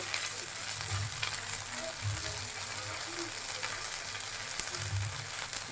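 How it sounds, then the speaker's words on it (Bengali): Boiled dried red chillies frying in a pan for a bean mash, giving a steady close sizzle with soft low stirring thumps recurring every second or so. "এটাই আমি একটু ভাজা ভাজা করে নেব"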